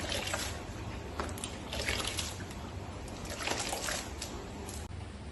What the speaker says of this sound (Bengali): এই জন্য হলুদ জল করে নিয়ে আর এরকম চটকে নিচ্ছি।